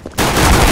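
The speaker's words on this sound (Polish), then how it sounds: "żebym jakiś wystrzał jeszcze słyszał" Gunfire from an AK-47 in a video game starts abruptly after a short quiet moment and then holds as a loud, dense, sustained burst of shots.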